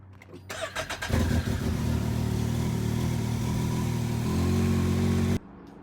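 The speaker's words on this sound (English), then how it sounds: "let's go ahead and shut off the vehicle and then go ahead and turn it on" A Can-Am X3 side-by-side running an E85 tune cranks briefly, then catches and settles into a loud, steady idle that rises slightly in pitch before cutting off abruptly.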